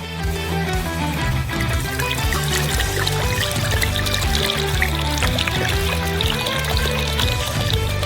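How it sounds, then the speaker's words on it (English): Red wine is poured into a bowl for a chicken marinade, a continuous close splashing trickle that runs the whole time, with background music and no talking. "Pour the red wine into a bowl."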